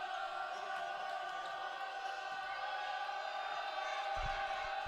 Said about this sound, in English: Crowd's got into it here.